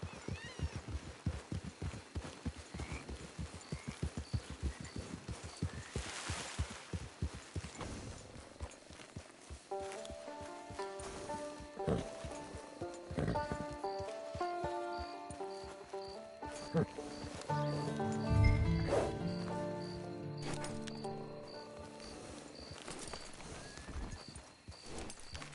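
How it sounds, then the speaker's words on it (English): Horse hooves clip-clop steadily in Red Dead Redemption 2 Online, a rhythmic trotting patter at close range that runs through the scene, with a brief whinny partway along and voices speaking over it. "Get your horse."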